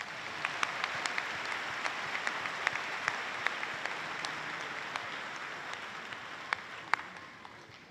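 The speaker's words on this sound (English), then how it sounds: "Let's give all of these folks a round of applause" Distant audience applause at a university graduation ceremony, a soft steady patter with a few sharper individual claps standing out near the front, fading slightly toward the end.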